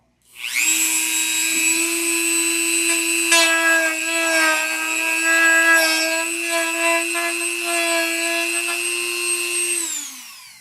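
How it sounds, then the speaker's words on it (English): Rotary power tool notching the wooden center section of a Sig Magnum RC plane, a loud steady high-pitched whine running about ten seconds with slight load changes, starting and stopping cleanly, with no talking. "I got to notch that center section first so that the horn clears"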